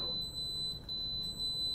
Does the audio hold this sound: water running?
no